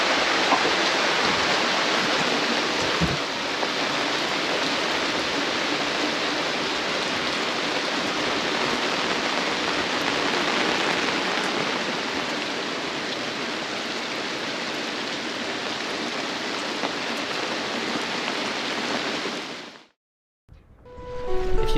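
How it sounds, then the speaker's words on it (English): Heavy downpour in a Fijian village, a dense, loud, steady hiss of rain pouring down that holds for about twenty seconds before abruptly cutting off. "I'm glad I got back right before this downpour"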